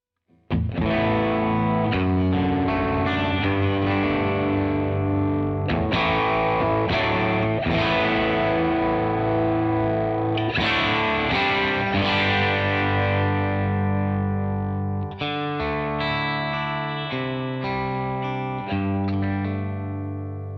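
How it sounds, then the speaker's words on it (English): Electric guitar played through a Great Eastern FX Co Small Speaker Overdrive pedal, strummed chords ringing out with a warm, slightly gritty tone over about twenty seconds, no voices. "it's really refreshing to see an overdrive pedal that doesn't push everything too far"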